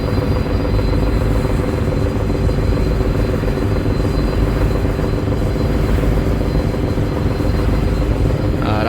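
Steady, loud drone of a passenger launch's engine while overtaking another launch on a Barishal-to-Dhaka river trip, an unbroken low rumble with engine hum and wind noise lasting throughout and no clear talking.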